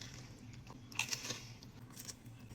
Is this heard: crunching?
yes